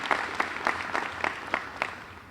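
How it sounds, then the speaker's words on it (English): A crowd at a Dean's List reception applauds the event organizers, a steady wash of clapping with regular sharp peaks, moderately loud and without talk. "So a round of applause to the people who have organized and have had this delivered here for us."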